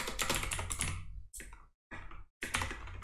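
A computer keyboard clatters with quick, close keystrokes, a dense run of typing that breaks into short bursts separated by brief silences.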